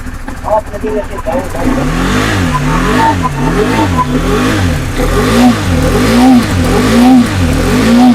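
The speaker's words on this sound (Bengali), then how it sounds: "জাস্ট একটু বলবো ইঞ্জিন সাউন্ডটা দেখাতে" A KTM RC 390 motorcycle engine revs repeatedly in a showroom, its loud, close exhaust note rising and falling in a regular wave of throttle blips.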